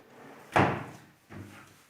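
A wooden drawer in a child's wardrobe is pushed shut twice, a sharp sliding thud followed about a second later by a softer second knock, close and alone.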